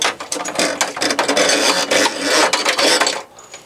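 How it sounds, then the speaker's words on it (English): A small nut is unscrewed on a shower fitting, making close, rapid ratcheting clicks and metallic scraping in irregular bursts that stop near the end; no speech. "the way to remove that is, if you can see here, is just to unscrew this little nut here"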